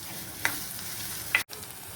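Onions fry in a pan for a moong dal kachori filling with a steady close sizzle, broken by two brief stirring clinks and a sudden short dropout near the end.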